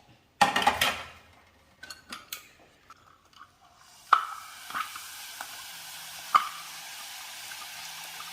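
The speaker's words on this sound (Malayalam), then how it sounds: "ആദ്യത്തെ ബാച്ച് മൂത്തിട്ടുണ്ട് അത് നമുക്ക് കോരിയെടുക്കാം" A batch of crunchy tea-time snack frying in oil and being scooped out, with a soft sizzle under sharp clinks and scrapes of a metal ladle against the pan, several distinct knocks spread across the stretch.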